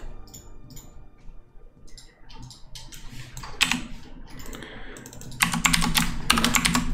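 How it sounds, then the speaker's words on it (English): Fingers type on a computer keyboard in uneven bursts of clicky keystrokes, starting sparse and soft and growing into faster, louder clatter near the end. "You don't like the keyboard ASMR?"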